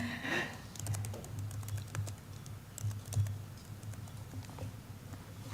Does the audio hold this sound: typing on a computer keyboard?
yes